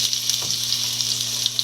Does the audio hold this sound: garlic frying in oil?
yes